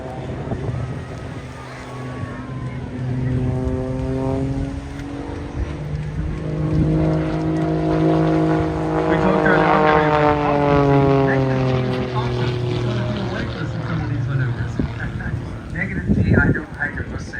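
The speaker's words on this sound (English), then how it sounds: "the aircraft is capable of up to 320 knots and today is travelling by at approximately 250 knots" A turboprop aircraft with a Pratt & Whitney PT6A engine passes at about 250 knots at the Bray Air Display in Ireland, its propeller drone rising and falling in pitch as it sweeps by under an announcer's commentary.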